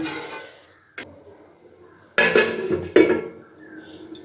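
A metal lid is set onto a pot of Bangladeshi-style potato curry, giving a few close clinks and clatters spaced over a few seconds against a quiet background.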